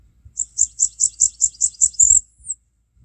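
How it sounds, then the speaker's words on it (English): Blackburnian warbler song, type A, played back from a warbler app: about nine evenly spaced, very high thin notes in a steady rhythm, ending in a brief sharp upslurred flourish, clear and alone. "and the Blackburnian warbler type A."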